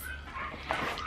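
A neighborhood dog gives a brief yip or bark, faint and distant behind indoor room noise, lasting only a moment.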